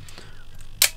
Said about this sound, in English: The shutter sound is very discreet, so here I can go to 1/250th.